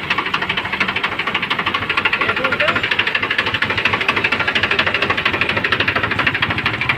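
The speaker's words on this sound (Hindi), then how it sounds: "पहले ट्रैक्टर की आवाज़ देखें" A used Indian farm tractor engine idles loudly nearby with a steady rapid knocking chug, even and unchanging throughout.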